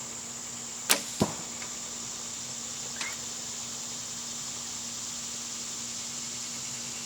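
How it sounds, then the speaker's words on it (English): A Hoyt bow releases an arrow: a sharp string snap followed quickly by a second thump of impact, then a faint later tick, all close and isolated over steady outdoor hiss with insects. "what you think the bow sounds like when we let the arrow go"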